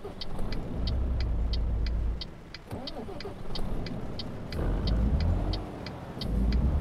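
Old bus engine in Euro Truck Simulator 2 pulls away in a steady, loud mid-range drone, with the pitch rising slightly and a brief dip partway through, under rain on the road.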